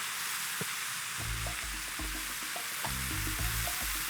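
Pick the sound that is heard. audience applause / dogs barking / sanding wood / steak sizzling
steak sizzling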